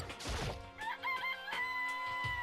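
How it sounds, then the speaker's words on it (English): A chicken in the video game Danganronpa gives a clattering opening burst followed by drawn-out, tonal clucks and crow-like calls, loud and alone without speech. "It's a chicken. It's really alive, right?"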